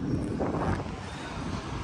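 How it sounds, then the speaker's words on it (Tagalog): Strong wind buffets the microphone with a low, rumbling roar that stays steady, slightly heavier at the start. "Malakas yung hangin eh."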